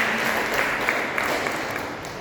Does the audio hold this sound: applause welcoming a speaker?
yes